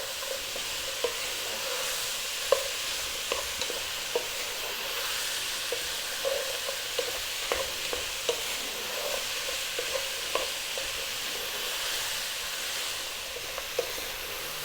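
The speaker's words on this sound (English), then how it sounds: "staying on this vibrant heat. And I'll be stirring it often." Vegetable soup with Indian spices stirred in a pot over high heat: a steady hiss of bubbling and sizzling, with light spoon scrapes and taps recurring every second or so, close and fairly loud, no voices.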